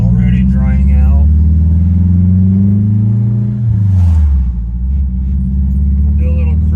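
A tuned turbocharged Acura TSX drives along a drying road, its engine droning loud and close, with the pitch rising and then dropping as it shifts, while someone talks over the sound.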